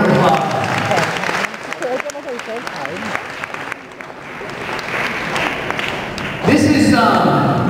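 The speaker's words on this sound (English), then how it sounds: "Give her a big round of applause" Crowd applause for a volunteer award winner at a Midlands convention charity auction, clapping rising and falling under a talking voice, with a louder burst near the end.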